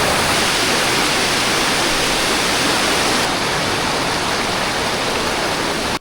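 A waterfall in Basilan roars as a loud, unbroken broadband rush of falling water, steady and close throughout with no other sounds breaking through.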